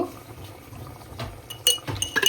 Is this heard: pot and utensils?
yes